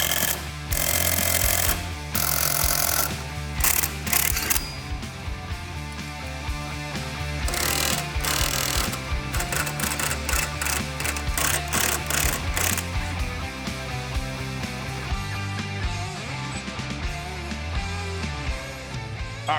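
Press tool pushing a lower ball joint out of a Jeep suspension: loud, rapid hammering bursts from an impact driver, starting and stopping repeatedly, close and mechanical, with no talking.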